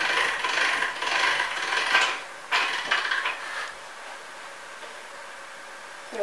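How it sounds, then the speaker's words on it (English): A hand-cranked pasta machine cuts rolled egg pasta dough into fettuccine, giving a steady mechanical ratcheting whir for about four seconds that then drops away to quiet room tone. "I'm just going to run the pasta through, and it's going to cut it into"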